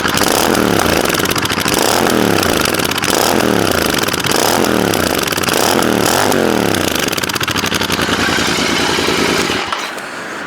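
A Royal Enfield GT 650 fitted with an SSP exhaust with its dB killer installed and a BMC air filter, revved hard and repeatedly up close, giving about five loud rising throttle blips in a steady rhythm before cutting off abruptly near the end.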